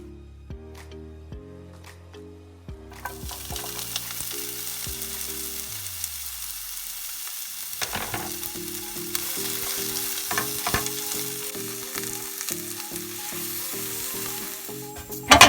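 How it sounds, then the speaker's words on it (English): Sliced sweet mini peppers fry in a little olive oil with a continuous bright sizzle, partly masked by louder melodic background music playing over it. "The first step is to cook the peppers in a little bit of olive oil."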